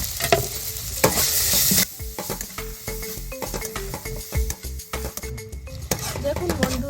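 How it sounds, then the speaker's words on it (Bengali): Ground spice masala of cumin, chilli, garam masala and coriander powders stir-fried in a pan for a flat bean kalia, with steady sizzling under repeated scraping and clinking strokes of a spatula against the pan. "আমার মশলাটা কষানো হয়ে গিয়েছে"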